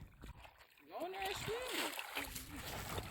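Dog splashing and sloshing in water on rural land, with short wet splashes and gurgles close by under a man's speech.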